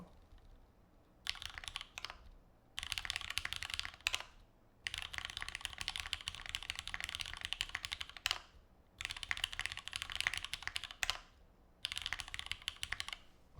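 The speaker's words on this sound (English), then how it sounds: "This is how loud the mouse clicks are at keyboard level." A computer mouse clicks rapidly, heard close up at keyboard level, in dense bursts of crisp clicks broken by short pauses, with no one talking.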